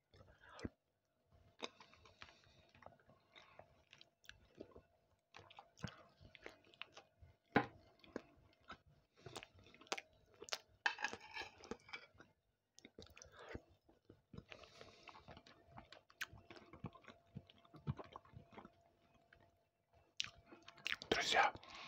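Close, quiet ASMR chewing of rooster aspic (kholodets), with wet, squishy bites and soft clicks repeating steadily throughout, plus occasional faint whispered speech.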